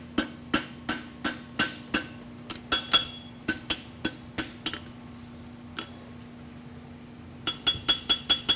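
A blacksmith's hammer striking an anvil while forging a plain stamped roadster horseshoe at a world championship: a steady run of ringing metallic blows, a brief lull with sparse strikes, then a quick burst of rapid hits, close and loud.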